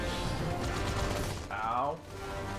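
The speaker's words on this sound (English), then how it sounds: "What the hell is shooting me?" Enemy gunfire in Halo 2 crackles in steady bursts aimed at the player, continuous and fairly loud, with a voice talking over part of it.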